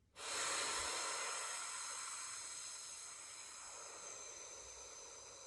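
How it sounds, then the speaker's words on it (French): A long, steady exhale blown out through the mouth during a children's sophrology breathing exercise, a broad breathy hiss that starts abruptly and slowly tapers over several seconds, close and alone. "Inspirez, gonflez votre bouclier. Et soufflez."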